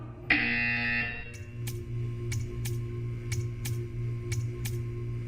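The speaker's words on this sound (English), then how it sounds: "You will hear a buzzer. When you hear the buzzer, stare at the art." A loud, steady buzzer tone from the video game Portal 2 sounds for about a second, followed by a series of sharp, evenly spaced ticks.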